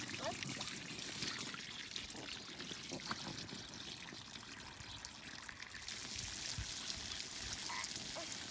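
Water pours and trickles steadily into a filling pool outdoors, a constant, moderately faint rushing wash with small splashy flickers.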